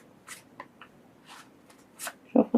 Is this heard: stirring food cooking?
no